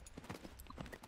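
Horse hooves clip-clop in the Tales of Rein Ravine video game, a quick, steady run of hoofbeats over about a second with no talking.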